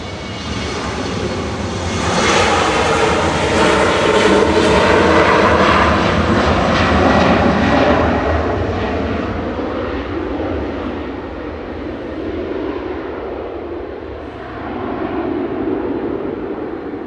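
An Aer Lingus jet aircraft at Manchester Airport roars loudly and close, swelling to a peak with a shifting, sweeping engine tone before easing and rising again as it passes.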